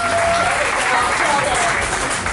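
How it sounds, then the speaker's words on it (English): Audience at a hypnosis talk in Toronto claps for the volunteers, a steady, even burst of applause from a seated crowd, with a voice faintly under it. "another round of applause for all the volunteers tonight"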